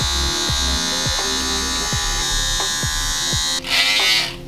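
An electric hair clipper buzzes steadily while cutting a fade beside undercut dreadlocks, a close, loud motor drone that pulses as the blades pass and rises sharply near the end.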